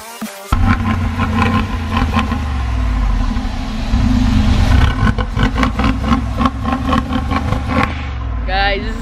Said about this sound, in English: Guys, this is such a loud car.